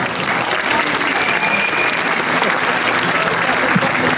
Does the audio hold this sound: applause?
yes